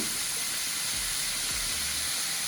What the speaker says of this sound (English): and watch it fry